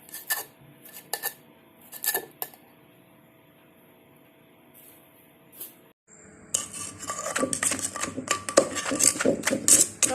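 A pestle works in a mortar of tomatoes for a Thai pounded salad. It makes sparse clinking knocks at first, then a dense run of scraping, clattering hits, close and fairly loud, with no talking.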